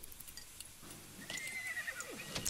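Game horse in The Sims 3 breaking into a gallop and whinnying, a rising neigh cutting in over soft, steady hoof clatter and faint background game sounds, close and moderately loud.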